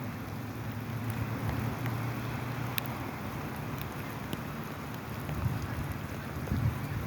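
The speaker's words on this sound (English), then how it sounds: "I love the sound of rain." Steady outdoor rain on a wet coffee run, a constant broadband hiss with a low rumble of wind or traffic underneath and a few sharper drip taps, no voices.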